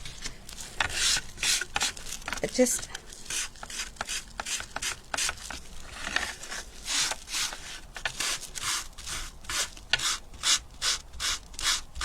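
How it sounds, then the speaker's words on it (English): Sanding block rubbed over a glass apothecary-style bottle in steady rasping strokes, a long run of regular back-and-forth scrapes close up, with one brief spoken word. "let us just grab a sanding block"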